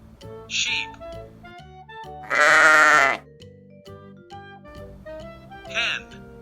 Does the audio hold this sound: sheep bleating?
yes